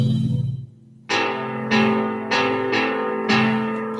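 Yamaha CP80 electric grand piano notes struck one after another in a slow, uneven rhythm, each chord ringing with a bright bell-like attack and decaying tail, heard up close with no talk.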